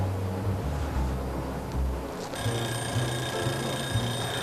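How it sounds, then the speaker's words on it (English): A kitchen timer alarm starts ringing partway through, a loud, continuous high-pitched electronic ring over a low background hum. "Hey, timer's gone off. It's been 20 minutes."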